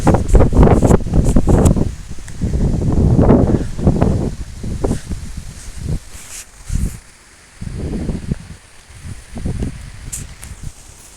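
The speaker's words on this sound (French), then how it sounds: "Ça fait un vent moyen assez puissant quoi." Strong gusting wind from Storm Federico at around 90 km/h, coming in loud surging bursts that buffet the microphone, rising and falling with brief lulls between blasts.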